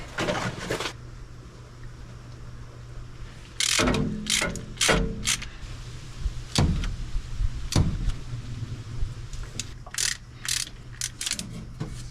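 A ratchet tightening bolts on a 1977 Dodge Power Wagon: bursts of close, loud clicking come in several separate runs of varying length, with pauses between them and no talking.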